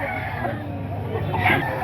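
A rooster at a fowl market calls with a brief raised crow near the end, fairly close, over steady crowd murmur and nearby voices.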